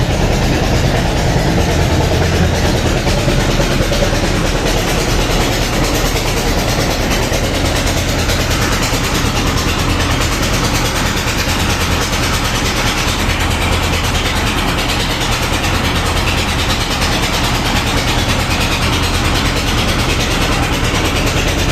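A river launch's engine drones steadily and loud from start to finish, a low heavy rumble with no talk over it.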